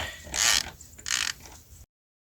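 A ratcheting wrench tightens wheel lug nuts on a vehicle during a tire change, giving two bursts of rapid clicking close by, then silence.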